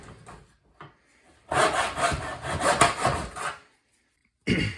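A hand saw cuts through a piece of wood for a catapult project, with a few short preliminary strokes followed by about three seconds of loud, steady back-and-forth rasping, then a pause and a final burst of sawing, all close up.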